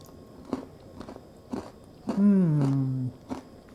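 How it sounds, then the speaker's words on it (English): Crunchy bites of homemade English toffee and chewing repeat at a steady pace up close, with a drawn-out murmur of pleasure partway through. "you can hear that crunch, that is so good."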